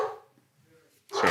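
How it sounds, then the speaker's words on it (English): Indoors, a dog barks close by, a voice speaking, then a short pause, then a loud sharp bark that ends the moment. "Sorry about the dog, guys."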